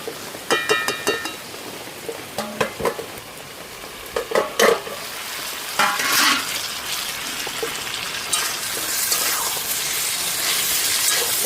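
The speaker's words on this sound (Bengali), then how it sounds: "কষানো প্রায় হয়ে গেছে," Desi chicken curry braising in a wok, with repeated stirring scrapes and clatters over a steady sizzle that grows denser and louder toward the end, close up with no talk.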